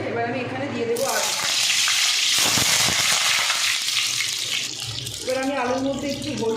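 Potatoes dropped into hot oil, starting with a loud rush of sizzling that swells and gradually settles, with a voice talking at the start and again near the end.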